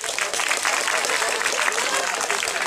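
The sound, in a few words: audience applause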